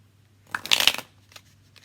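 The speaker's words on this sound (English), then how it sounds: "Let's get the Modern Love Tarot out." A tarot deck being shuffled in one quick, quiet burst of riffling cards lasting about half a second, then near silence apart from a low steady hum.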